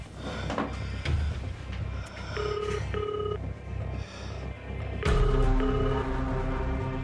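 A telephone rings repeatedly with no one answering, its tonal bursts recurring over a low steady background hum that grows busier near the end.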